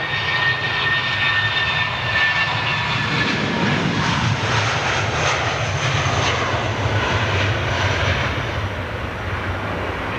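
Jet airliners, including a Boeing 787 Dreamliner and a Boeing 777, taxiing at London Heathrow, a loud, sustained engine roar and whine holding steady nearby throughout.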